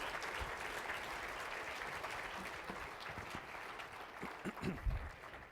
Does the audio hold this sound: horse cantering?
no